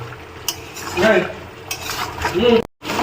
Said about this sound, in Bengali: আস্তে আস্তে তেল ছাড়ছে মোটামুটি আমার কষা হয়ে এসছে প্রায়